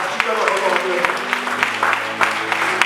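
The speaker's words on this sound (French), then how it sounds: "Applaudis le roi des rois." Congregation at a Sunday church service applauding, a loud continuous patter of many hands with a few sharper claps standing out, accompanied by a sustained low tone and some voices underneath.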